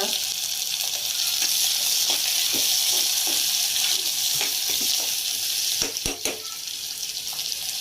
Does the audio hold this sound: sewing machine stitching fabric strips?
no